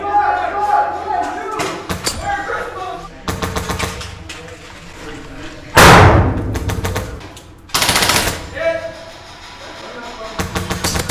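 Airsoft guns firing in an abandoned asylum, bursts of rapid rattling shots broken by two loud sharp blasts, close and loud, with voices shouting between bursts.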